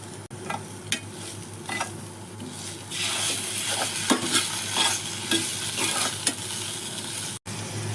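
Onions frying in a pan with salt and ginger-garlic paste for pav bhaji, a steady close sizzle with repeated spoon scrapes and stirring knocks throughout, loud and continuous with no talking.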